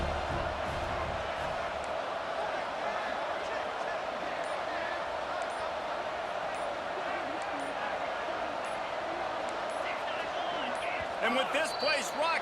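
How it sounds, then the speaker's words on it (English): A packed stadium crowd roars steadily in the EA Sports College Football 26 video game, a loud, continuous wash of noise that swells near the end, with commentators talking over it. "with this place rocking, the crowd forces a false start"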